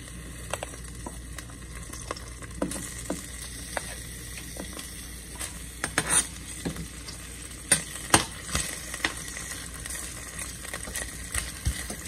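Ginger sizzling in hot oil in a pan for a pompano fish sinigang soup, steady frying hiss punctuated by irregular clicks and scrapes of a utensil stirring, close and fairly quiet, no talking.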